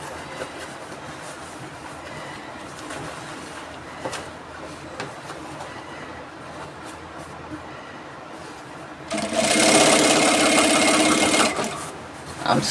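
A sewing machine runs a half-inch seam on an off-shoulder shift dress, a loud steady whirring burst of about three seconds near the end, after a stretch of quieter handling noise.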